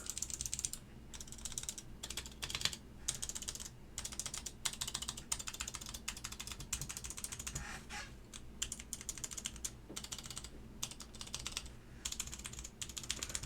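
A GSKT-00 keyboard fitted with Alps SKCM Cream switches clatters under fast typing, a dense run of close, crisp clicks and clacks with brief pauses between bursts.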